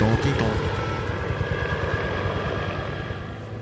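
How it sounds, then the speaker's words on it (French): A helicopter returning overhead, a low rumbling engine drone with a fast rotor pulse, fairly close and fading slightly, with voices speaking alongside. "Et l'hélicoptère qui revient me chercher? Je l'entends, il revient!"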